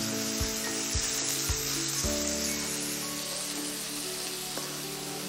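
Bacon frying in a pan, a continuous crackling sizzle close by with a few low knocks near the start, no talking.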